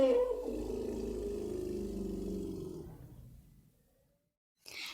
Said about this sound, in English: The sound made by elephant is trumpet.